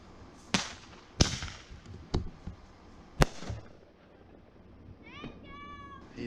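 Backyard fireworks go off in a 2023 display, with several sharp, loud bangs spaced a second or so apart, then a cluster of high, wavering whistles near the end.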